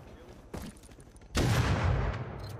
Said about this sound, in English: So many Python turrets!